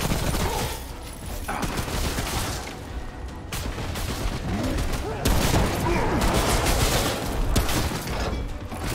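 Shotgun blasts fire in quick succession during a firefight in Remnant: From the Ashes, loud and dense over a constant roar of combat noise, with a voice talking underneath.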